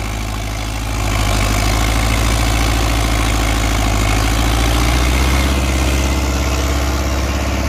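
A New Holland Dabung 85 tractor pulls a laser land leveller, its diesel engine droning loud and close with a deep steady rumble that swells under load and then holds at a constant pitch.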